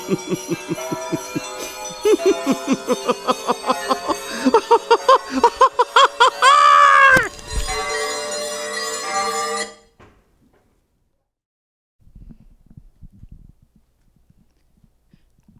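A rapid, regular series of bright ringing bell strikes builds to a loud clang, then cuts off, leaving near silence and faint sounds.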